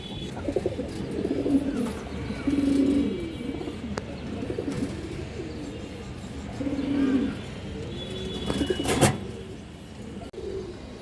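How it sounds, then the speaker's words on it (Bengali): Female pigeons coo in repeated low, throaty rounds, with a few sharp knocks and faint background noise. "এই যে একটা তোতা মাদি কবুতর"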